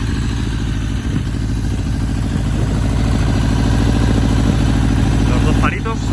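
Kawasaki GPZ 1100 Cafe Racer, a motorcycle over twenty years old, idling after starting, a steady close mechanical throb with light clatter throughout and a brief blip near the end.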